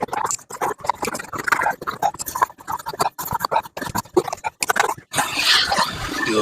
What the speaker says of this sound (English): Next, let's get our vacuum on.